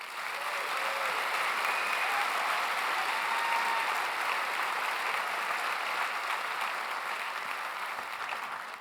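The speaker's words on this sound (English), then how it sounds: "I think he deserves an incredible round of applause." Sustained applause fills the hall at a university graduate commencement ceremony, a steady, dense wash of clapping from a large audience that holds level throughout with no talk over it.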